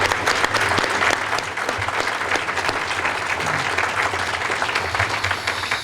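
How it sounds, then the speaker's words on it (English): Courtroom audience applauds the speakers at a memorial court session, a steady, dense round of clapping from a full room that holds for the whole stretch without any talk over it. "I do want to give a round of applause to our speakers"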